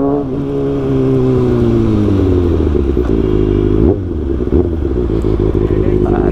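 A Kawasaki ZX6R motorcycle rides up at night and arrives, its engine loud and near as revs rise and fall, with people talking over it.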